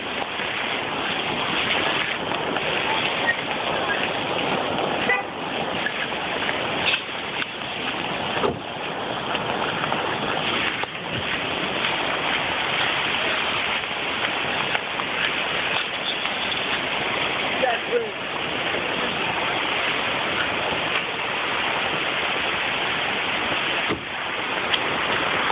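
The Saco River roars as floodwater rushes along during Hurricane Irene in 2011: a dense, unbroken wash of loud water noise with small surges, and no clear voices.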